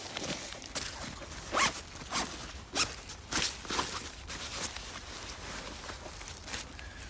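A survival kit bag being unzipped and handled close by, with quiet rasping zipper pulls and fabric rustling in short bursts, fairly faint and without talk.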